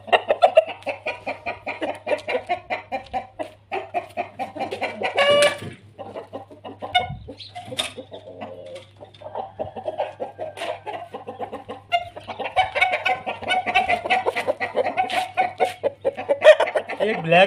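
An Aseel rooster clucks repeatedly in short bursts, close by, with a low steady hum underneath and brief sharp noises in between.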